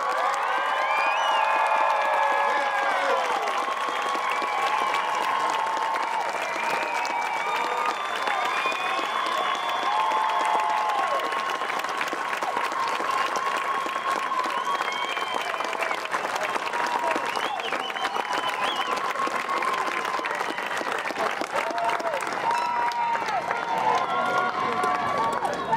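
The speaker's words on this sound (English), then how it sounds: "I need for 10 seconds to give these babies a round of applause" At a high school graduation at Hibriten High School in North Carolina, a large crowd applauds in a sustained, dense wave of clapping with some scattered cheering. It carries on steadily for about twenty-five seconds.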